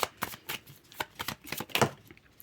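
Tarot cards being drawn and laid down during a reading, heard as a series of close, crisp papery flicks and taps in an irregular rhythm with no talk.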